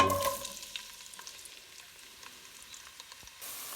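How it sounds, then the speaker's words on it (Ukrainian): Onions frying in oil while making zucchini caviar, a steady soft sizzle and crackle with scattered pops, no voices. "поки в мене тут обсмажується цибулька"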